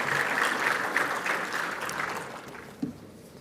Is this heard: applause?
yes